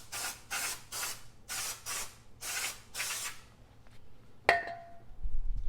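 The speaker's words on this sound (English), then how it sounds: "get some brake cleaner" Can of brake cleaner spraying onto front brake parts of a Volvo S60 Turbo in six short, loud hissing bursts, followed by a single metallic clink and some low rumble.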